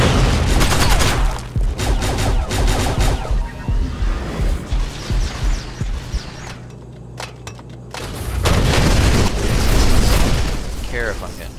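Video game gunfire pops in short, dense bursts that keep recurring under an almost constant stream of talk, fading into a quieter stretch and then rising again near the end.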